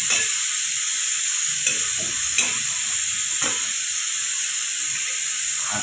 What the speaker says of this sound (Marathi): आपण भाजतोय शेंगा